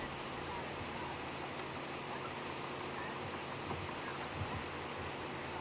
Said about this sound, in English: the grasses are all rustling around us